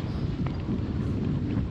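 Steady wind buffets and rushes past the microphone during a sailing match race on a sunny, blustery day, with a continuous broadband roar and faint splashing beneath it.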